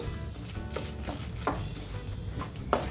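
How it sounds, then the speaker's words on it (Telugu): Ingredients for chicken ghee roast fry gently in a pan over a low flame, giving a soft, continuous sizzle with occasional light clicks and stirring scrapes. "సిమ్లో పెట్టుకొని ఫ్రై చేసుకోవాలి"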